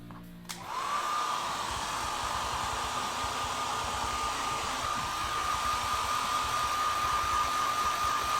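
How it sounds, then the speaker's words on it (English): Hair dryer blowing air over the base of a painted tabletop miniature, starting with a click and then running as a loud, steady whir with a constant tone. It continues unbroken to the end with no talking. "Hairdryer, the base,"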